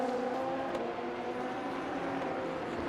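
LMP2 prototype sweeping around the outside of a GT3 car at Circuit of the Americas in Le Mans Ultimate, a steady, fairly faint engine drone with no break for about three seconds.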